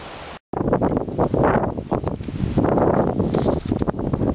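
Strong outdoor wind buffets the microphone in loud, sustained gusts during motorcycle restoration work, with one brief dropout near the start and no speech.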